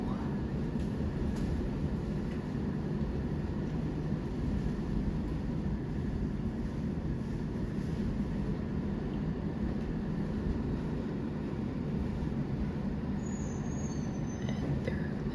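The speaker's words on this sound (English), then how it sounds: "And there goes the westbound train." A Toronto subway train roars past on an elevated bridge, rumbling and droning at a steady level, a broad low mechanical hum with a faint high squeal near the end.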